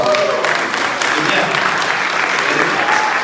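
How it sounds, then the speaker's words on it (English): Loud, sustained applause from an audience at an Ambedkar Jayanti and Equality Day celebration in Boston, dense clapping that holds steady throughout with some crowd noise mixed in. "So let's give him a big applause."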